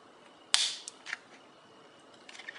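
A thick, sprayed-material nano screen protector for a Galaxy Note 3 gives one sharp, crisp snap, followed by a couple of fainter clicks and light handling noise nearby.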